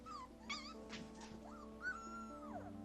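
Wolf pups howling in the wild, several thin, high-pitched wavering howls and yips overlapping, some gliding up and down in pitch, faint and unaccompanied by speech.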